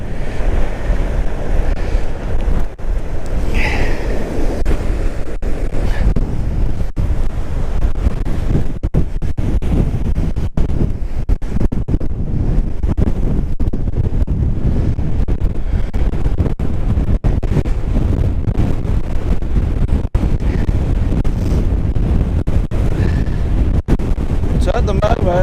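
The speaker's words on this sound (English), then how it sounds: "At the moment, the waves are breaking right over this bit where I'm standing" Storm waves crash continuously on the coast at Aberffraw, Anglesey, during Storm Brian, with heavy wind buffeting the microphone throughout and a voice faintly audible in places.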